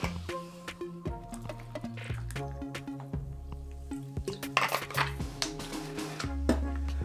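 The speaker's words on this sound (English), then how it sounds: "I'm gonna top it off with some more soda water." Soda water poured into a Collins glass of a non-alcoholic tiki drink, with soft fizzing, bubbly trickles and light clinks of glass and ice, close and quiet.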